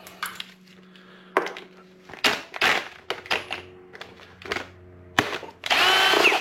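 A power drill removing 10mm bolts whirs in short, straining bursts with pauses between, clunking and clicking as it works, ending in a longer sustained run.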